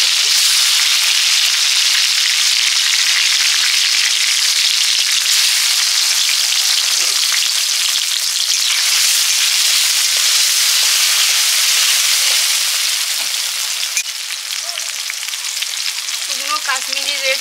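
Chopped tomato hits hot refined oil with whole garam masala, sizzling and spitting loudly and steadily throughout, with a slight easing near the end and no voices.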